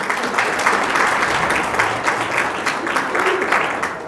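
A church congregation applauds together in a steady, dense burst of clapping that holds at an even level throughout, with faint murmuring beneath.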